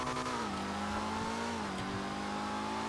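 Rental car driven hard in a role-play video game, a steady loud engine drone holding near-constant revs with slight pitch dips, close and continuous with no talk.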